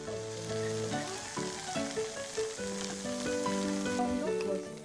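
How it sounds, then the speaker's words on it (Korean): Tofu pan-fries in a lightly oiled pan with a steady, rain-like sizzle heard close up, partly under melodic background music. "기름을 살짝 두른 팬에 두부를 잘 구워주시는데"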